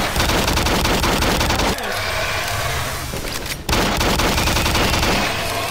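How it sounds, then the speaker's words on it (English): Rapid, sustained automatic bursts from the machine gun pistol in the video game Doom 3, loud and dense, with a brief break before the firing resumes. "the machine gun pistol is interesting."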